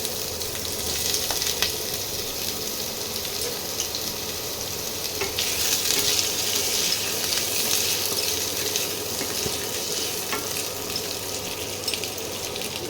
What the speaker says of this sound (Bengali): এমনি প্লেন তেলের মধ্যে আলুটা ভেজে নিতে হবে